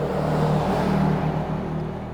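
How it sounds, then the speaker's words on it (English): Road traffic on a roadside near a Sedona trailhead, with a steady, fairly loud car engine rumble passing close by, continuous with no voices. "lots of traffic"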